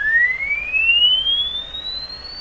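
Test tone sweeping in pitch through a Canadian Crosley 12B radio, heard as one clean steady whistle that glides smoothly upward over a faint hiss background, fairly loud and alone.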